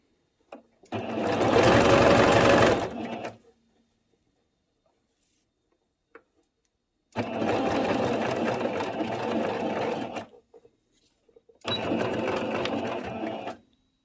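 A sewing machine stitches an elastic skirt in three separate runs of fast, steady whirring, each lasting a few seconds and separated by quiet pauses, heard close and with no voices.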